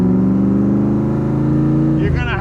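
A 1965 Shelby Cobra Superformance roadster idles with a deep, loud exhaust rumble that holds steady, then the engine revs upward near the end, with a voice over it.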